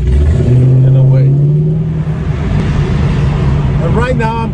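Car engine cruising at 45 mph with the windows down, a steady mid engine drone with wind rush while someone talks over it throughout.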